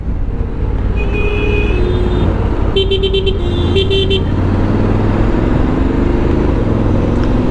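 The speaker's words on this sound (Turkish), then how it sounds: "Kavga etmelerini önlemek için bir iki korna." A loud, steady Honda X-ADV 750 motorcycle engine rumble with a few short horn honks sounding over it, close by in traffic.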